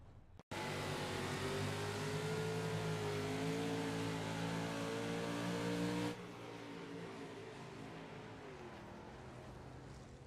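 305 sprint cars of the Midwest Outlaws series race on a dirt track, their engines blending into a loud, continuous roar with rising and falling pitch. The roar drops to a slightly quieter level partway through.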